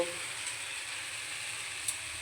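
Potatoes frying in a pan, a steady close hiss of oil sizzling throughout, with a couple of faint crackles and no talk.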